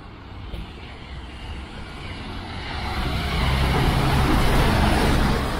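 A Coastal Liner bus passes along a street in Worthing, West Sussex, its broad engine and road rumble swelling steadily louder over the last few seconds as it draws near.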